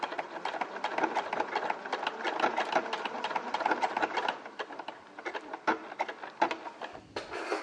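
Janome DC4030 sewing machine stitching an overcast stitch, a slow run of rapid, rhythmic needle clatter heard close and alone, with brief pauses near the end.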